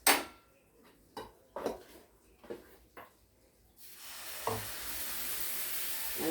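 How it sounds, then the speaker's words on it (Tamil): Barnyard millet oothappam batter hitting hot oil in a pan: a few sharp utensil clinks and taps, then a steady, fairly loud sizzle that swells and holds to the end. "திரும்பவும் எண்ணெய் ஊற்றிட்டு அடுத்த தோசை."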